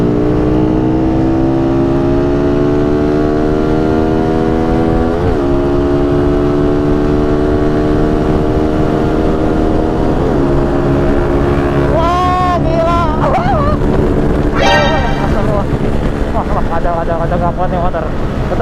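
A Honda Supra X 155cc and a Karisma motorbike labour uphill with loud, close engines, their pitch rising and falling in surges as the riders rev, while people talk over the noise.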